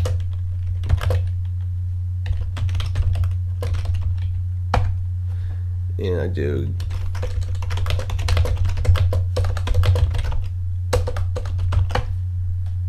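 Rapid, uneven keyboard typing clicks away up close over a steady low hum, with a few words spoken briefly partway through.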